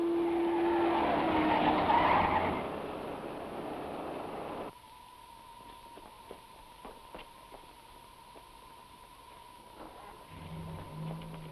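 A car tears away with its tires skidding and squealing loudly for a few seconds, then cuts off abruptly, leaving faint, sparse clicks and a low hum.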